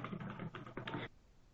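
Computer keyboard typing during an Office 365 conference call, a short dense burst of close, rapid clacking keystrokes that stops abruptly after about a second, leaving low background hiss.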